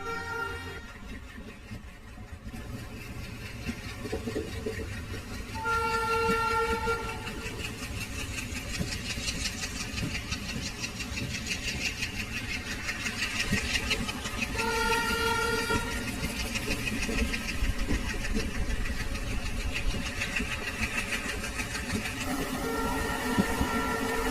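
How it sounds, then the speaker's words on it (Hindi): A diesel locomotive engine rumbles steadily with a low throbbing chug, rising slightly after a few seconds and continuing for a long stretch with no voices. "डीजल इंजन के अगर आप फैन है ना, तो ये चगिंग सुन के बस आपको मजा ही आने वाला है"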